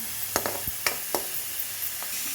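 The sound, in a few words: onions frying in pan for cauliflower curry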